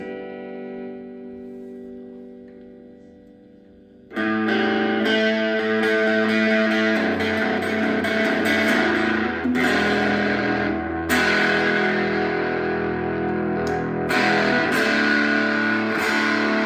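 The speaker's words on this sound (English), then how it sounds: "now let's get into the distorted tones" A heavily distorted Schecter Diamond Series PT solid-body electric guitar rings out in loud, sustained chords, following a quieter fading note, with a few brief pauses between strums.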